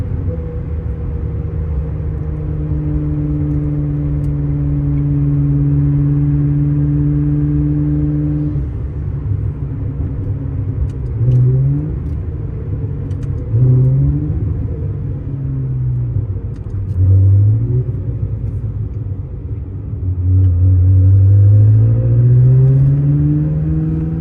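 A 2000 Ferrari 360 F1 Modena engine being driven through traffic while still warming up, with short revs and gear shifts held around 3,000 RPM. Its steady rumbling drone rises and drops several times, heard from inside the car with no talking.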